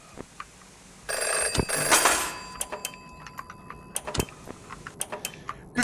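A telephone rings in the horror video game Five Nights at Chuck E Cheese's: a sustained electronic ring with a steady tonal buzz runs for about three seconds, loud and alone, amid scattered mechanical clicks and creaks.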